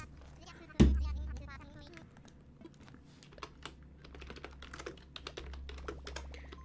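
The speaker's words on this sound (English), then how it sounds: "I'm typing the Dodo code in" Rapid clattering keystrokes on a computer keyboard while entering a code during a live-streamed game session, close and steady in quick irregular bursts after a single louder thump, with a voice talking intermittently underneath.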